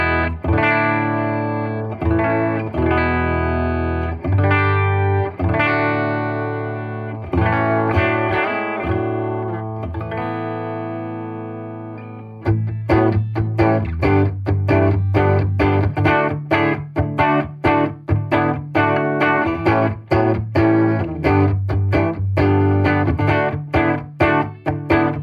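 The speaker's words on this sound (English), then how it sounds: "Start with the clean sound on the bridge pickup first." A clean-toned semi-hollow electric guitar on its bridge pickup plays alone, ringing chords first, then a quicker rhythmic strummed pattern.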